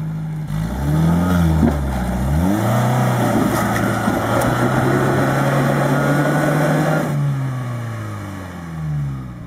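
An off-road rock crawler climbing over rocks, its engine revving loud and close with rising and falling pitch, then holding a steady strained drone before easing off.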